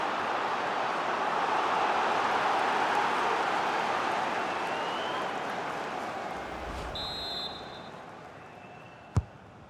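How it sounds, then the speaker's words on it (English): Stadium crowd noise in a FIFA football match between Manchester United and an opponent, a broad steady roar that swells and slowly eases off, with a brief chant-like tone near the end and a sharp thump just before it finishes. "Yeah, the crowd sensing momentum is with their team here."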